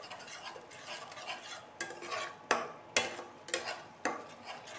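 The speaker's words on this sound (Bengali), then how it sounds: "টক দইটাকে দিয়ে আমি কর্নস্টার্চ নাড়বো," A spoon stirs cornstarch into sour yogurt in a pan while cooking Bengali rohu fish roe kalia, with soft scraping strokes and several sharper clinks of utensil against the pan, close and quiet.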